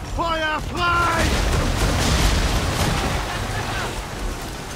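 Cannon broadside fired from a sailing warship during a naval battle off a coast in Assassin's Creed III, a deep rolling boom over wind and sea noise, following a brief shouted voice.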